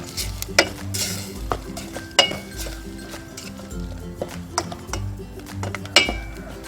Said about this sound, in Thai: พอได้กลิ่นหอมของพริกแกงเราก็ใส่หอยของเราลงไปค่ะ ทีนี้ก็คั่วใส่กันนะคะ